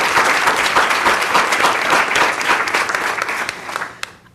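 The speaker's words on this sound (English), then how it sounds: "I think that all of the team deserves a round of applause for being able to put this together." Sustained applause from a meeting audience at a New Jersey Board of Public Utilities session, a dense steady roar of many hands clapping that thins and fades out near the end.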